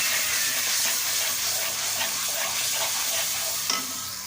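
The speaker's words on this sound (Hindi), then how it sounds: "ये देखिए मसाला हमारा जो है वो फ्राई हो चुका है, भून चुका है।" Masala with ground tomato and green chilli paste frying in a pan for arvi curry, giving a steady loud sizzle with soft stirring scrapes throughout and no talk.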